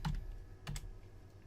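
Keys struck on a computer keyboard while entering a Google search, a few sharp clicks in two short bursts, close by and alone without talk.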